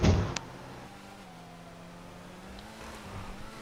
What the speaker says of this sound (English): Let's see what we can get this car up to.